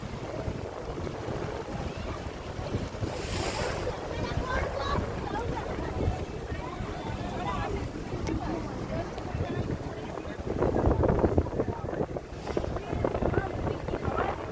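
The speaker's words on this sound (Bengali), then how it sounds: "এটা একটা আমাদের বোট।" A boat moves over open water with heavy wind buffeting the microphone and water washing steadily; voices murmur faintly beneath.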